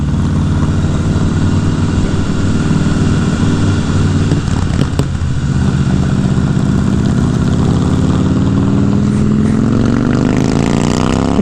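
A Honda CBR 1000 Repsol sport motorcycle on a ride, its engine a loud, steady close-up drone that climbs in pitch toward the end as the throttle opens.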